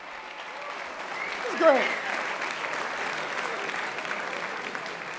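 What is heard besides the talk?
audience applause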